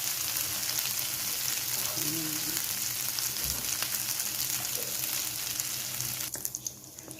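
Idiyappam stirred into a sizzling sauteed mixture in a pan, with a steady close frying hiss and occasional scrapes of the spoon that die down near the end.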